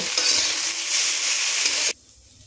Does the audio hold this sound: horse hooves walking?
no